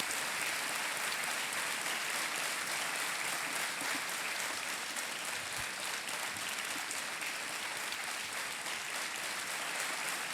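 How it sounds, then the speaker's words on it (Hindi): A studio audience on a televised quiz show claps loudly and steadily throughout, a dense continuous wall of applause with no pauses. "एक बार जोरदार तालियां बजाएं इनके लिए।"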